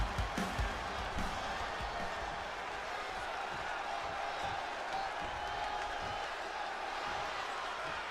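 Crowd cheering in the WWE 2K26 wrestling video game, a steady broad roar of arena noise that holds throughout with a few louder thumps near the start.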